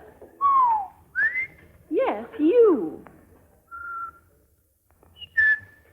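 A person whistles a short tune while cleaning, with a few distinct whistled phrases separated by pauses, close and clear, alongside brief speech from a voice in a radio drama of Snow White.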